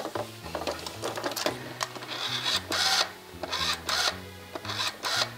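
Mechanical whirring and clicking in bursts, like a rotary telephone dial spinning and returning, with brief ratcheting pauses between turns.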